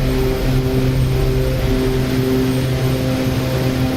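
Jet fighter engine roaring steadily at full power during a takeoff run in the DCS World flight simulator, a loud continuous drone with strong low tonal hum, alone without talk.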